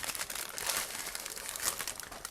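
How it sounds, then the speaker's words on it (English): A large plastic bag holding a 1/35 scale model kit of a Russian Imperial Railway covered wagon crinkles and crackles steadily as it is pulled open up close, with bursts of rustling throughout and no talking. "Here I am trying to open this huge plastic bag."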